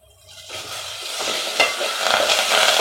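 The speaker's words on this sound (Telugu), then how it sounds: "కరివేపాకు వేసుకోవాలి." Curry leaves dropped into hot oil for a brinjal and raw mango pulusu, a sudden burst of crackling sizzle that swells in after a quiet start and keeps spitting loudly up close.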